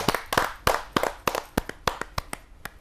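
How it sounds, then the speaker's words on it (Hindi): An audience at a kavi sammelan poetry gathering claps for a poet: a short run of distinct, close hand claps at an uneven pace, some overlapping, which thin out toward the end. "जोरदार ताली के साथ हम उनका स्वागत करते हैं।"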